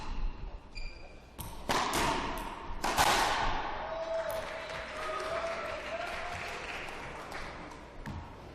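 Crowd applauding after a long racquetball rally at the 2012 US Open quarterfinal, sharp ball and wall thuds giving way to sustained clapping and cheering from the stands.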